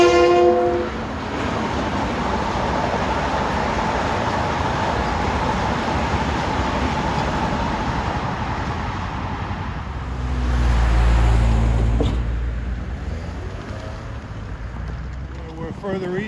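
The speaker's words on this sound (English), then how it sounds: "He'll be flying by here." LIRR train 2056, running from Grand Central to Ronkonkoma, thunders through the Little East Neck Road grade crossing. A horn blast opens over a loud, steady rolling roar, which swells again near the end before easing off.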